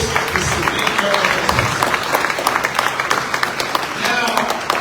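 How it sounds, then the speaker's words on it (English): Scattered clapping from an award ceremony audience honouring President Julius Maada Bio, mixed with a prominent voice speaking over the applause. "Round of applause for him as he takes this big"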